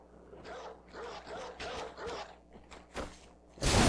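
Caged dogs in the Bloodborne video game give a run of rough, mid-distance barks and yelps in an uneven rhythm, ending in a sudden loud burst of noise.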